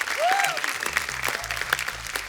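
Studio audience clapping on a TV comedy show, a short, moderately quiet patter of applause with a faint tonal musical sting underneath.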